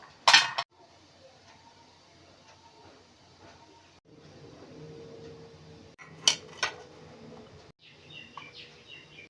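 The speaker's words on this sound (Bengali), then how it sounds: "এটা আমি ইডলি স্ট্যান্ডে দিয়ে ইডলি বানিয়ে নেব। ইডলি স্ট্যান্ডে একটু তেল বুলিয়ে দিলাম।" A metal idli stand being greased and filled with batter gives two bursts of sharp metallic clinks and clatter, one at the start and one later, with quiet kitchen room tone in between.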